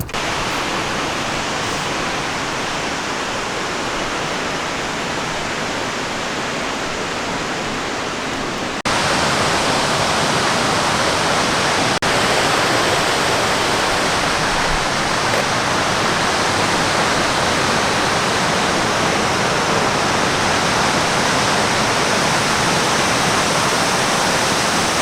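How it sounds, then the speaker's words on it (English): A waterfall at a rock formation roars as a loud, steady broadband rush that grows louder partway through as it is approached more closely, with no voices. "That's another beautiful waterfall."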